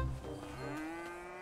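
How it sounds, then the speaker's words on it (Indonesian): A cow in GTA 5 gives a single long, low moo that holds steady for over a second, loud and close, with game background sound beneath it. "sapi gila, sapi gila"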